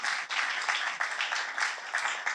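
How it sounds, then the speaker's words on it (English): Steady applause from a crowd at a children's event, a dense continuous patter of clapping that holds throughout without any voices. "Give yourself a round of applause."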